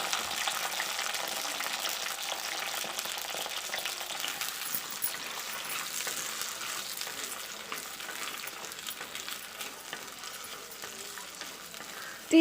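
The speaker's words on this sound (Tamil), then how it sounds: "இந்த கத்திரிக்காய் எண்ணெயிலே நல்லா வதக்கிக்கணும்" Brinjal (eggplant) pieces sauté in oil over a medium flame, giving a steady, even sizzle and hiss that runs unbroken throughout with no voices.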